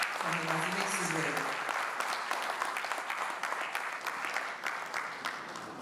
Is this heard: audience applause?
yes